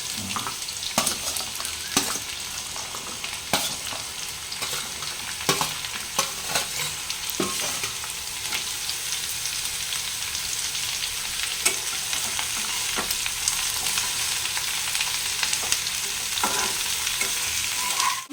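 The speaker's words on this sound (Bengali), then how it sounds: "এরপর আমি পটলটা ছেড়ে দেবো" Pointed gourd and potato fry in a pan with a loud, continuous sizzle, broken by frequent scraping stirs of a spatula.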